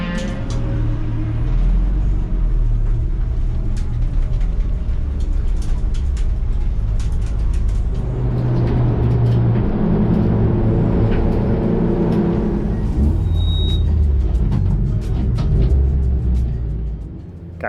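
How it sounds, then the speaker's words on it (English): Open-wheel race cars run on a racetrack, a continuous loud, low engine rumble that swells and recedes as cars pass, with no talking. "There's some cool open wheelers out on the track at the moment."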